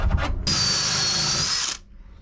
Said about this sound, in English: when I'm drilling down into here, so there's no chance of any disasters